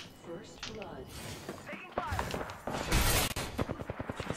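Gunfire in the Apex Legends video game crackles in bursts of sharp shots, building into a rapid close volley near the end, with a player talking over the early part.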